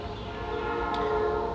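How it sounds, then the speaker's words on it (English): A train passes in the distance as a steady low rumble with faint tonal hum, continuous and moderately loud behind a quiet outdoor setting, with no talking. "You hear the train behind me."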